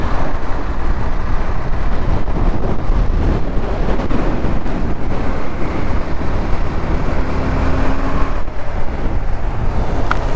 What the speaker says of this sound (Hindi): पानी का क्या उफान है, पत्थर तोड़ते हुआ लेके आ गया नीचे